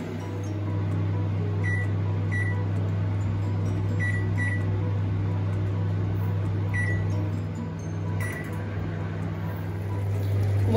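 An oven grills boneless turkey pieces at 200 degrees Celsius, giving off a steady low hum with a handful of brief, faint clicks or ticks scattered over it, close by and with no speech.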